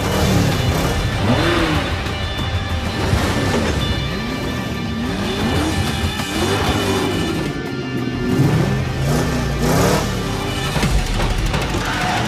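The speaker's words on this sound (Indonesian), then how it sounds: "Masing-masing pembalap mulai menyalakan mesin mobilnya sambil mengatur nafas," Several race car engines revving loudly at a street race start, overlapping roaring sweeps and rising pitch bends with bursts of acceleration, dense and close with no talking.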